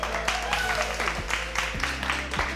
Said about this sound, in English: Everyone, please, another round of applause for Jay.